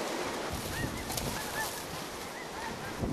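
Geese flying overhead during a goose hunt, giving faint scattered honks at a distance over a steady wash of wind and outdoor noise.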